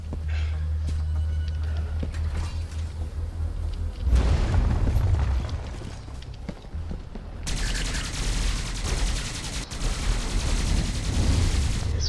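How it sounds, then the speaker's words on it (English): Sweeper guns firing in the Skyforge video game: a dense, continuous barrage of rapid gunfire and booming blasts, loud and sustained, with heavier bursts mid-way and a brighter crackling volley later on. "Sweeper guns."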